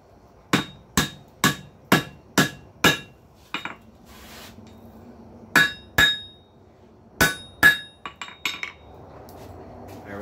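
A blacksmith hammers hot iron on an anvil over the pritchel hole to bend it, sharp ringing metallic strikes in two quick bursts of about six and a few scattered blows with short pauses between, close and loud.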